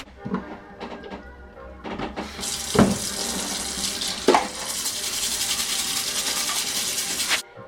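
Tap water runs steadily into a container to fill an aquatic turtle's tank, a broad continuous rush lasting several seconds after a few clinks and bumps, then cutting off near the end.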